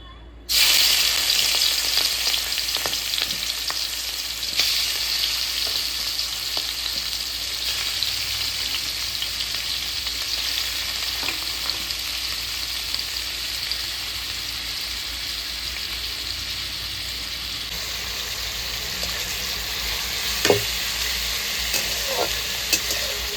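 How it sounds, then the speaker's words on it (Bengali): Fish sizzle steadily in hot oil in a wok, a dense, even crackle and hiss that runs on without a break, with occasional louder pops and no talking. "এবার আমি মাছগুলো ভেজে নেব।"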